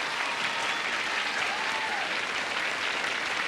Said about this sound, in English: Could you applaud all these nice people for me?